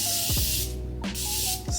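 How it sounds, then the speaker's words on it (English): Morphe Prep and Set Continuous Setting Mist sprays in two close, bright hissing bursts, each lasting about half a second, with a brief pause between them and no voices. "This is the MORPHE Prep and Set Continuous Setting Mist."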